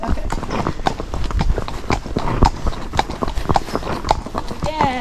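A gaited horse being ridden down a road clip-clops in a steady, quick rhythm, the hoofbeats close and distinct, while people talk over the steps and a brief whinny sounds near the end.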